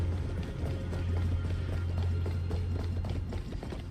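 A horse gallops in the video game Honkai Star Rail: a continuous, rapid clip-clop of hooves, steady and fairly close, over a low rumbling drone.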